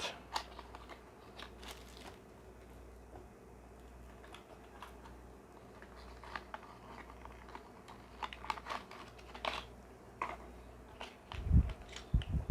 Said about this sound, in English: As always, we got your tough as nails shrink wrap plastic.